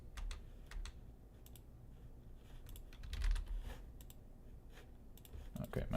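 Keys on a computer keyboard are typed in irregular clusters of light clicks, close up over a quiet room with faint background sound.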